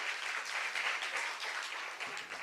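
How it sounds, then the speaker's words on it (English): A live audience at a magic show bursts into steady applause that holds at an even, fairly loud level for a couple of seconds before thinning slightly at the end. "Give her a big round of applause"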